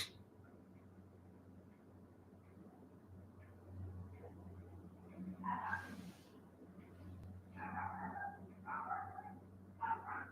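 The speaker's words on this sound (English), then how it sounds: "It's the neighbor's dog." A neighbor's dog barks and yips at a distance in rural Texas, several short bursts coming in clusters over a steady low hum.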